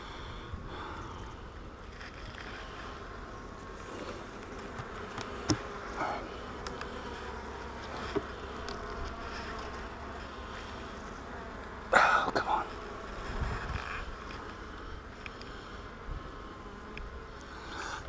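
Honeybees drone steadily in an open hive during a March inspection, a soft continuous buzz with a brief louder burst partway through, no talk over it.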